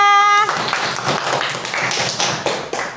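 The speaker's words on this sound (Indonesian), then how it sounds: "Bisa kasih tepuk tangannya untuk kelompok 3." Classroom applause for a student group after a presentation in an Indonesian religious studies lesson, a burst of scattered clapping from a small class that runs steadily for a few seconds after a brief tone.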